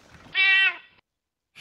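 A single loud, clear cat meow, close and tonal, heard within Battlefield V gameplay, followed by a short silence and a brief burst of another sound.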